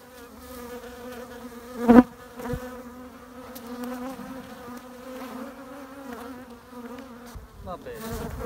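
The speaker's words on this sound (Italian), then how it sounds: "Le api adesso continueranno a purificare, la regina inizierà, le api operaie inizieranno a costruire" A honeybee swarm being recovered and moved to a hive gives a steady close drone of buzzing, with a sharp louder buzz near the start and faint handling noises.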